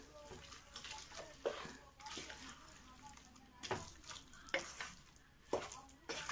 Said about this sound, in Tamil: பேஸ்ட்டை சேர்த்து நல்லா வதக்கிக்குங்க.